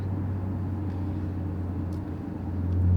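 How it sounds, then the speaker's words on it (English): A car's raspy exhaust drones steadily under load from inside the cabin, a low buzzy hum that swells louder toward the end. "Raspy, full rasp. Oh yeah, that's bad. Bad rasp."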